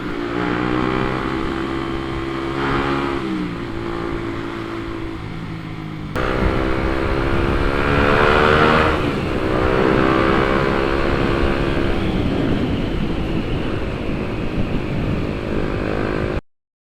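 A motorcycle on a touring ride revs hard at full throttle, its engine tone climbing through the gears, loud and close, with a steady rush of wind and road noise throughout.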